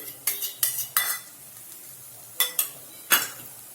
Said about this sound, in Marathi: आता आपण याच्यामध्ये एक मी अर्धी वाटी दही टाकणार आहे